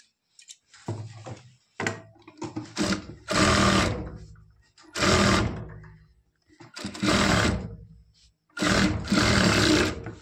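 A sewing machine stitches the waist seam of a lehenga blouse in several loud, close bursts of whirring, each a second or two long. Brief stops and handling noises separate the runs.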